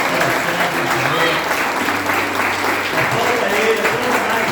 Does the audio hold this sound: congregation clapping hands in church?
yes